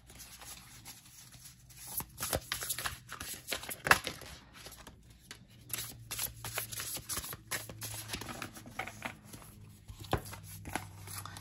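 Angel Wisdom Tarot cards with an unglossed finish being shuffled by hand, close and quiet, with repeated soft riffling and slapping bursts in an uneven rhythm and a few sharper snaps.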